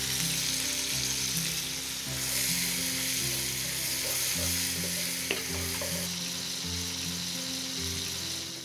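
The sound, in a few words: turkey, onion and garlic sautéing in a pan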